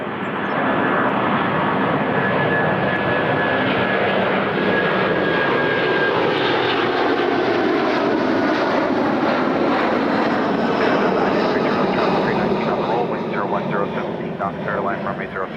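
An airliner taking off at Toronto Pearson Airport, a loud, continuous engine roar with a faint whine on top, steady from start to finish, with voices talking underneath.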